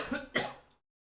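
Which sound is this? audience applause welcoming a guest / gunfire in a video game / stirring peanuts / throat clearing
throat clearing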